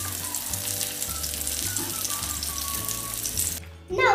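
Chicken burger patties frying on a medium flame give a steady, loud sizzle with bubbling crackle for most of the time, ending in a sudden brief clatter.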